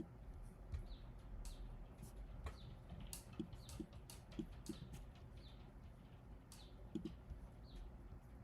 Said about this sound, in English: it's just some birds chirping in the background as usual